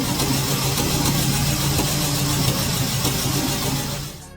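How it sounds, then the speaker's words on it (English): Restored seventy-year-old Triumph 2000 car engine running steadily, a loud, close, continuous rumble with a constant drone that drops off slightly at the very end. "Listen to the roar of this engine from over 70 years ago."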